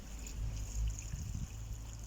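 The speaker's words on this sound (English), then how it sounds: "I need to get some water, and I'm going to put a bit on a time, spiralling round from the outside" Water poured a little at a time onto the embers of a small campfire to put it out, a soft close trickle and splash with low rumbling over about two seconds.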